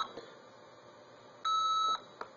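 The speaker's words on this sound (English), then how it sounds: "we hear a low beep and the light comes on" A single steady electronic beep, about half a second long, from an Arduino-based blue box phone-phreaking device entering memory mode, clean and close amid quiet background hiss, with a couple of faint clicks.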